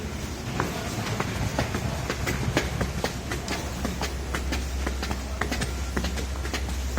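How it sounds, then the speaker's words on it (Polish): Train rolling through the Warszawa Zachodnia station platform area, a steady rumble with repeated clicking wheel and rail impacts throughout, fairly loud and close, no talking. "Mamy tutaj peron szósty pociąg do Wrocławia Głównego"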